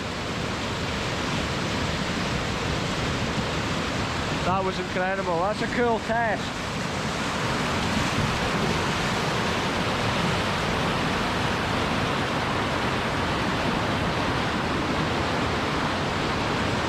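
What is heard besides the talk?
river water rushing at the Den of Airlie, Scotland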